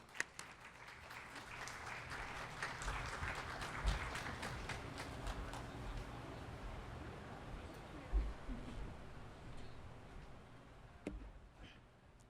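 An auditorium audience applauds steadily to welcome a doctor speaking on cancer prevention, a moderate, sustained patter of many hands with a few louder claps standing out.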